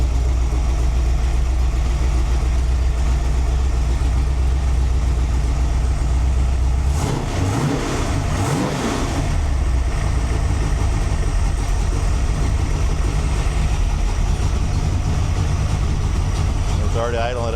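A 408 cubic inch V8 idles steadily at about 800 rpm with a constant low rumble throughout, while a person talks briefly over it partway through.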